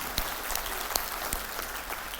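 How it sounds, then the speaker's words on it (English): An audience applauds in a steady wash of clapping, with a few sharp louder claps standing out. "you guys deserve a round of applause if you help someone."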